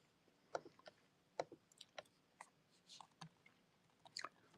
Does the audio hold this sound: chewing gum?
yes